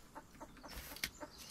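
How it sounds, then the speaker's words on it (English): A chicken in the Rust video game gives a few quick, faint clucks in a short uneven burst, with no talk. "Where's that chicken? I hear a chicken."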